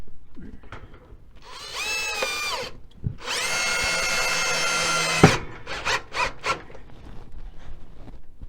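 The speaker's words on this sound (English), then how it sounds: "I'll switch to drill bit now and get the screws put in" A cordless power drill drives screws while a CAMCO stove top cover is installed. There are two sustained whirring runs, the second longer and ending abruptly, followed by a few short bursts and faint handling clatter.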